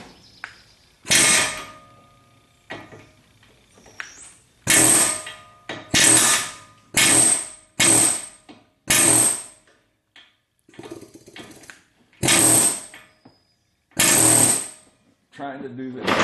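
A Harbor Freight air hammer pounds on a part of a 2014 Ford Fusion during repair, firing in about nine loud, close bursts of roughly a second each, separated by short pauses.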